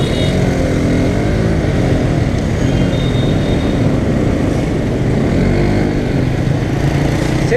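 Dense scooter traffic fills a street in Hanoi, Vietnam, with a loud continuous roar of many small engines buzzing and revving close by and no voices.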